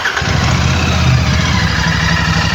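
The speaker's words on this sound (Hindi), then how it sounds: "आपको इस बाइक की मैं एग्जॉस्ट नोट सुनाने वाला हूँ." Royal Enfield Classic 650 twin-cylinder motorcycle idling with a steady, rumbling exhaust burble, loud and close throughout, no voices.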